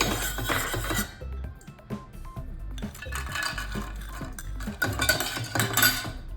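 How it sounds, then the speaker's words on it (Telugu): Cashews fried in ghee in a pot, with busy metallic scraping, clinks and stirring clatter of a utensil against the vessel, fairly close and continuous with short pauses. "గిన్నెలో ఘీ వేసుకొని కాజు ఫ్రై చేసుకోవాలండి"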